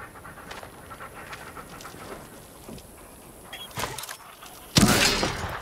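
Dog panting in the video game Arizona Sunshine 2, soft rhythmic breaths running steadily under faint background noise, with a louder burst of sound near the end.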